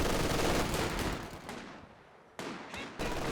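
Machine gun bursts from the Company of Heroes 2 strategy game ring out in a loud sustained volley, fade briefly, then return as two short sharp bursts.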